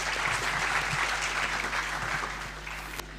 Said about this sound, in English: So a round of applause to all you all.